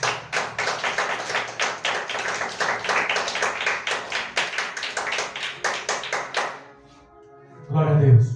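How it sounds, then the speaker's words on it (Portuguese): A church congregation clapping hands in praise, a fast steady rhythmic clapping that runs for several seconds, stops, and gives way to a voice. "Glorifica o Senhor com suas palmas."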